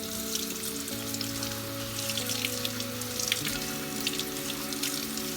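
Pickled radish being rinsed under running tap water in a sink, a steady close rush of water with small splashes and patters, no talking.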